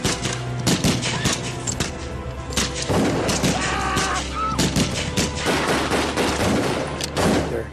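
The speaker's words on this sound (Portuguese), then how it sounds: "E foi então que eu ouvi os disparos." Rapid volleys of gunfire erupt at a small airstrip beside light planes during the Jonestown killings, sharp bursts overlapping densely and loudly throughout, with thuds mixed in and no speech.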